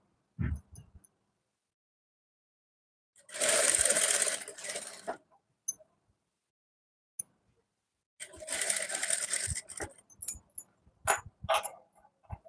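Sewing machine stitching a blouse in two long bursts of rapid whirring runs, each a couple of seconds, separated by quiet pauses and a few light clicks and handling taps.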